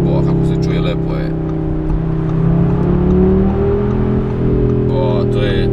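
A 2022 Audi RS3 engine on a cold road at around 2 °C gives a steady, droning note that climbs briefly as it revs, with a voice heard faintly over it.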